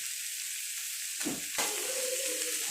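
Quail meat coated in masala, pepper and curry leaves fries on a hot dosa griddle, giving a steady close sizzle with a brief stirring scrape partway through.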